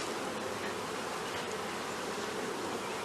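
Honeybees buzz steadily from an open hive during an inspection, a dense continuous hum close by with no pauses.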